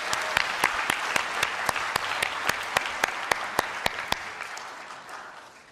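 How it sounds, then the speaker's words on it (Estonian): Applause for the vote counters at a Social Democratic Party general assembly: a crowd claps steadily with a few sharp, evenly spaced louder claps standing out near the microphone, then the clapping thins and fades toward the end. "palun üks suur aplaus häältelugejatele"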